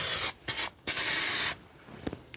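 An aerosol spray can lays down a test coat on the bottom of a piece being painted, in close, loud hissing bursts: two short blasts, then a longer sustained spray, followed by quieter faint clicks and handling.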